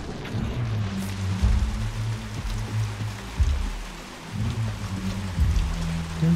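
Heavy rain in the video game Hunt: Showdown pours as a dense, steady hiss, with low rumbling game sounds thudding underneath at intervals.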